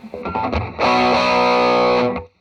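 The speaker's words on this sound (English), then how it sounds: "The way these dip switches are set means that I'm like in the distortion mode." An electric guitar through a pedal set to distortion mode plays a few short picked notes, then a thick, buzzing sustained chord rings out loudly before cutting off.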